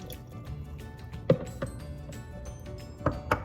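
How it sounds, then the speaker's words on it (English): Thick green smoothie glugs and drips into a cup in a few soft, uneven splashes, close by and fairly quiet. "So let's pour this in my cup here."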